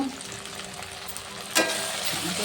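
A sweetened, salted sauce thickened with cornflour water bubbles in a pan for a jackfruit chilli dish while it is stirred, a continuous sizzle broken by one sharp spoon scrape partway through.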